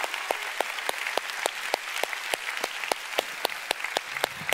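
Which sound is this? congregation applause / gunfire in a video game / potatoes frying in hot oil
congregation applause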